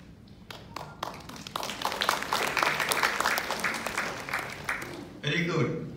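An audience claps after an address, beginning with a few scattered claps that quickly swell into a fuller round of applause, then thinning as a voice starts speaking near the end.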